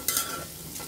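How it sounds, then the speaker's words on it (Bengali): Hyacinth beans fry with onion and garlic in a pan, giving a brief, soft sizzle with a light scrape of stirring. "মৌসিমের পেঁয়াজ রসুন এবং মৌসিমগুলো একটু ভাজা ভাজা হয়ে গিয়েছে।"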